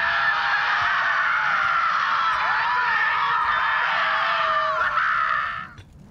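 Sustained, loud, wavering scream in the video game Borderlands 3 that holds steady for several seconds before cutting off abruptly near the end, with faint rumbling underneath.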